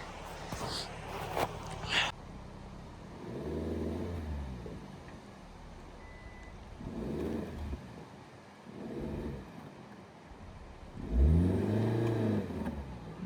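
A campervan stuck in snow in the Lahaul valley in winter revs its engine in four rising, whining surges, each fading back to idle between attempts, fairly close and loud.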